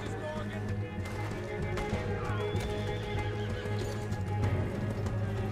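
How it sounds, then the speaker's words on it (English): A horse in Red Dead Redemption 2 whinnies and its hooves clip-clop steadily over layered game ambience and music, with a voice speaking at times. "My horse. Get on my horse."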